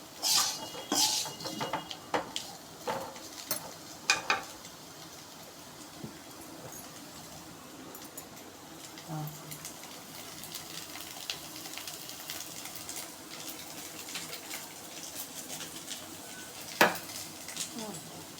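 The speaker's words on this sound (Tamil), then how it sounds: "இதுதான் நல்லா கிளறி விட்டால் நல்லா மொறுன்னு வரும். அதுக்காக தான் கிளறோம்." A spoon scrapes and clatters against a pan as taro root fry is stirred, with sharp metallic clinks that come in bursts early on and again near the end over a soft, steady sizzle of frying.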